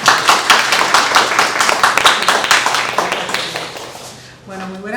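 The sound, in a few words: audience applause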